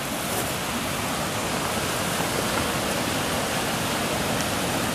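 A creek flows far below a bridge by the Tulameen River, making a steady, even rushing hiss with no breaks, heard alone.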